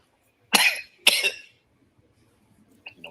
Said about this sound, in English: I had a bad cough now.